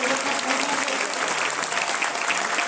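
Crowd at a Mi Lifestyle business gathering breaking into applause, a thick, even roar of many hands clapping at once, loud and sustained for the whole stretch.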